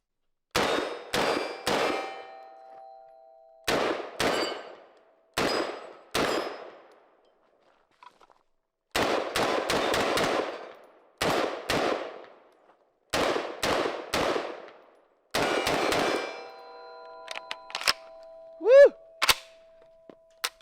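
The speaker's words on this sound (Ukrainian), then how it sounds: "Спочатку стрельну по мішеням." Bursts of 5.56 rifle fire crack in quick groups, each shot answered by a ringing metallic clang from steel targets, with short silent gaps between volleys.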